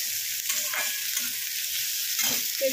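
Onion and panch phoron frying in a pan, a steady hissing sizzle with a few soft stirring scrapes and knocks, close and even over a few seconds, no talking.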